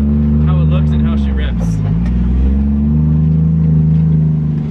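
A drift car's engine drones loudly and steadily on a short cruise, the pitch dipping briefly before climbing again, with a person speaking over it partway through.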